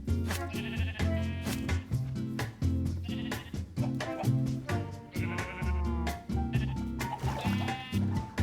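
Sheep in a video game bleating repeatedly, a rapid series of loud wavering bleats one after another with no talk.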